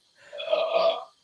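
Tim lets out a single drawn-out burp of about a second in a home kitchen, fairly soft and swelling then fading, with no one talking over it.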